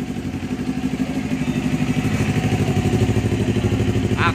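A Kawasaki Ninja 400 motorcycle fitted with an Akrapovic titanium exhaust revs high with a steady, throbbing, rapid pulse, loud and near and building slightly in intensity.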